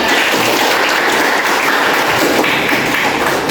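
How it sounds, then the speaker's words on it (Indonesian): A classroom of students clapping for a classmate after her answer, a dense, loud burst of many hands applauding steadily for several seconds with no voices over it. "Give applause to Zarina."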